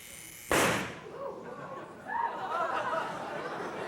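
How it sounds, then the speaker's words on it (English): An alcohol vapor explosion inside a bottle, set off by a spark jumping between two screws: a single sharp loud pop, followed after a pause by excited chatter and laughter from onlookers. "we're setting off an explosion. That's because the liquid at the bottom is actually an alcohol, and the vapor of the alcohol gets ignited"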